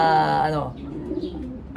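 Racing pigeons give a soft, throaty cooing, loud and close at first, then fading into lower murmurs with a faint rustle, over a brief stretch.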